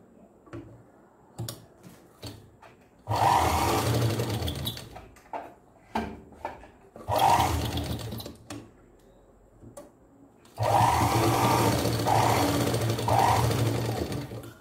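A sewing machine stitches a homemade cloth langot diaper for a newborn in three loud bursts of rapid mechanical whirring, separated by quieter pauses with small clicks and handling noises.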